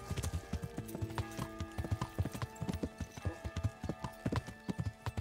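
Horse hooves clip-clop steadily in the medieval game Kingdom Come Deliverance, a close, even rhythm of hoof strikes over a low ambient backdrop with no talking.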